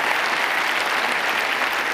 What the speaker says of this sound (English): Great hand of applause for my guinea pigs.